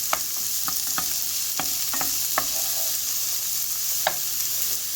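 Onions sautéing in a pan for a French-Canadian tourtière meat pie, an even close sizzle broken by sharp, scattered spatula taps and scrapes, no voices.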